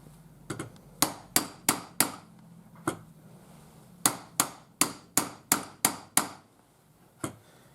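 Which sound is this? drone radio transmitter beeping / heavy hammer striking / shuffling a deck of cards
heavy hammer striking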